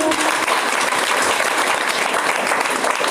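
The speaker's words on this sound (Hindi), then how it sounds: "एक बार सर के लिए मैं चाहूंगी जोरदार तालियां हो जाए" Audience at an RCM business gathering breaking into loud, dense applause, continuous and close throughout the short stretch.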